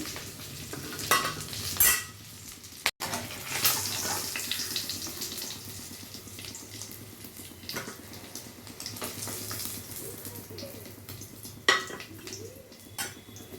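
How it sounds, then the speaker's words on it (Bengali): Eggs fry lightly in a pan for an egg korma, a soft sizzle under clinks and scrapes of a utensil against the pan, with occasional running water nearby; close, fairly quiet, no talk. "ডিমগুলো বেশি লাল করে ভাজবো না হালকা করে ভাজবো"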